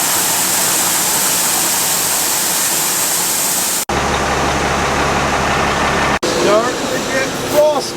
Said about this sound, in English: Sounds like the dryer is dumping right now.